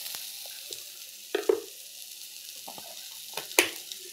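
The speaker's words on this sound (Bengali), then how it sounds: "পেঁয়াজটা ভাজা ভাজা হয়ে গেল" Onions frying in oil in a home kitchen give a soft, steady sizzle, with a few sharp clinks and scrapes of stirring breaking through the quiet hiss.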